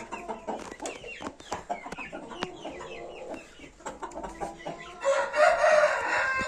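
Penned breeding hens kept apart from the rest of the flock cluck repeatedly up close while a rooster crows loudly near the end, with other birds chattering in the background.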